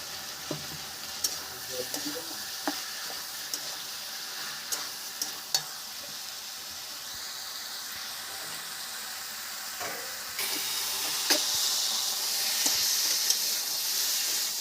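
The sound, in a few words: vegetables and bori frying in oil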